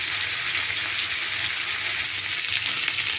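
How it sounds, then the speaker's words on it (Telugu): Dried fish frying in oil in a pan for a tamarind curry with brinjal, a steady, dense, close sizzle that holds evenly throughout with no talking. "చేపలు వేగుతున్నాయండి."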